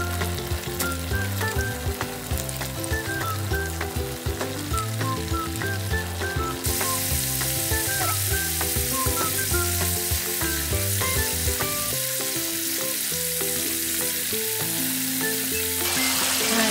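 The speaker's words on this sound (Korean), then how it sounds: "아까 이렇게 고구마 막 자기 마음대로 써는 고구마를 이제 기름에 튀겨볼 거예요" Steady, dense sizzling and crackling of sweet potato pieces deep frying in hot oil, continuous and fairly loud throughout with no talking.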